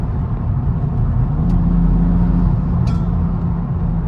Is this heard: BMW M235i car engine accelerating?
yes